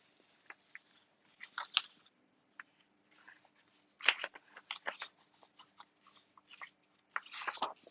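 Sheets of paper rustling and crinkling in quick, uneven bursts during a live demo session, with soft handling noises between louder shuffles and no talk.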